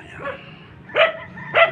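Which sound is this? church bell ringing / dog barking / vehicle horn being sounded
dog barking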